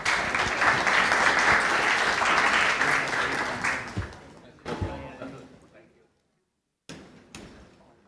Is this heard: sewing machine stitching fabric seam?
no